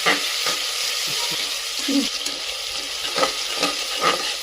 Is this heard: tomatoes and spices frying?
yes